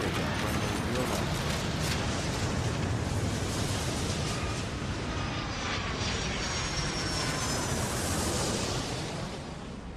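A jet airliner takes off in the airport management game Airport Madness 3, a loud, continuous roar of engines that holds steady for the whole stretch and eases off slightly near the end.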